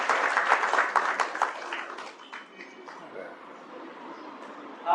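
An audience bursts into applause at a gathering: a dense patter of clapping that is strongest at first, then thins and fades away, with voices murmuring underneath.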